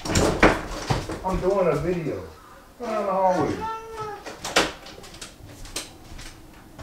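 Loud, sharp thuds of someone banging on a door come in scattered bursts, mixed in with close conversation and voices.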